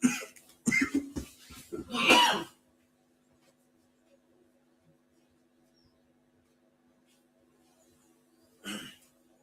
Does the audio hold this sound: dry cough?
yes